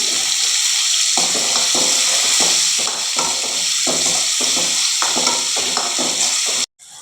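Dried fish masala with salt sautéing in a pan, a steady loud sizzle with rhythmic scraping stirs repeating about every half second, ending in a brief cutoff.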